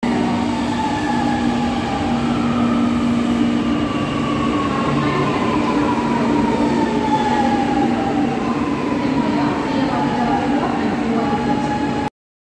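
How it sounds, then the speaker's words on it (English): A metro train rolls past at close range with a constant rumble and rail roar, with faint wheel squeal and some rhythmic clatter running the whole way through. No one speaks. "M for metro train."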